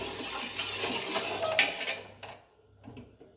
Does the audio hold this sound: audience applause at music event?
no